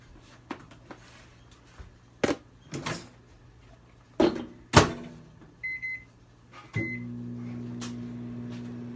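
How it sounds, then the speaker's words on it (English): A microwave oven is handled with several door and cupboard clunks and a short double beep, then starts running with a steady, close electrical hum that continues to the end, with no talking. "I could throw it in the microwave for 5 seconds and have it melt down a little bit"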